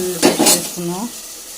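Onion and green chili pieces fry in oil in a pan, a soft sizzle under two quick scraping stirs of a utensil followed by a short squeaky scrape.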